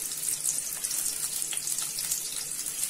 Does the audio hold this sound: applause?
no